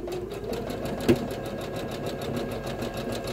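Embroidery machine sewing a bean stitch over yarn: a fast, even mechanical needle rhythm hums steadily up close, with one brief knock partway through and no talking.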